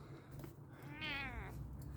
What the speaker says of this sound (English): actually something you guys never get to see is my cat, Rascal.